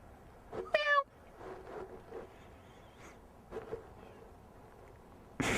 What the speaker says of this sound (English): Ooh, there's a cat.